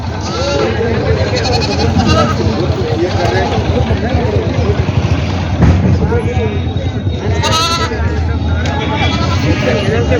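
Goats bleat repeatedly amid a noisy crowd at a large goat and sheep market in Parbhani, with voices chattering and background bustle throughout; the bleats rise above the din several times.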